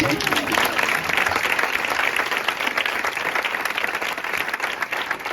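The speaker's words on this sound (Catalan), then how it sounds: "Un aplaudiment, no?" Sustained, dense clapping from a crowd at a book presentation in a bookshop, loud and steady throughout, with some voices mixed in beneath.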